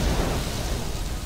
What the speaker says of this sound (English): And more explosions.